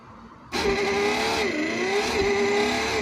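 A Peugeot 306 engine fires back up after a short quiet stretch, settling into a steady, close idle hum with a wavering pitch that holds to the end, with no talk over it.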